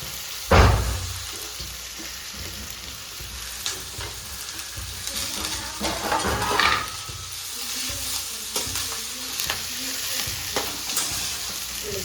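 Onion, carrot and chillies frying in a pan for chow mein give a loud, continuous sizzle, with a sharp clank near the start and scraping stirs along the way.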